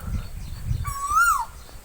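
A small bird gives a single clear, sweet call with a rising then falling coo-like tone, heard outdoors in a village after rain beside a sugarcane field, over a low background rumble.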